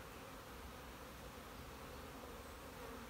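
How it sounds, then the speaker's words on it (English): A medium-sized honeybee swarm buzzes in a steady, dense drone close by, continuous and even without pauses. "This is a nice medium-sized swarm."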